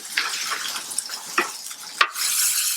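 Juicy Lucy burgers flipped on a Blackstone griddle, a steady bright sizzle punctuated by a few scraping spatula strikes, close and moderately loud.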